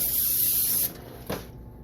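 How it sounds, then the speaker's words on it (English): Pam Original cooking spray hisses onto a pan in one close, loud burst lasting under a second, followed by a faint short tap. "Spray the pan real good."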